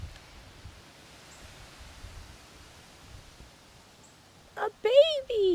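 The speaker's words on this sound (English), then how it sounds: "Okay, wind." Wind blowing through garden plants makes a soft, steady rustling hiss at low level, and a voice briefly breaks in near the end.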